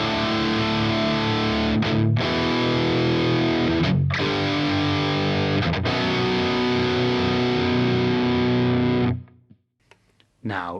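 A heavy, distorted electric guitar tone comes from a Fractal FM3, FM9 or Axe-FX III preset as sustained, loud chords with brief breaks, then cuts off near the end before a short final stab.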